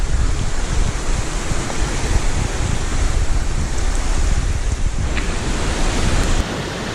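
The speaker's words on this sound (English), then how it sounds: "I'm going to use up all my card space just filming these waterfalls on this trail." Waterfall along a forest trail, a loud, steady broadband roar of falling water filling the whole clip, with a touch of wind buffeting and no voices.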